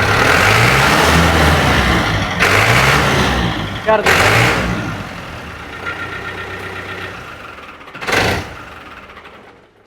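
A 1998 tractor engine runs close by with a steady rumble, revving up in a few sharp bursts before easing down, while people talk over it.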